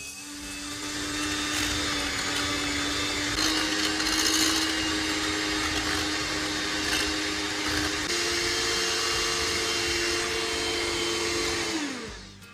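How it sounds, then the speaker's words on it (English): An electric mixer whirs steadily through chocolate migliaccio batter after the second egg goes in. The motor pitch steps up partway through, then the mixer winds down and stops near the end. "And now we add the second egg and keep mixing,"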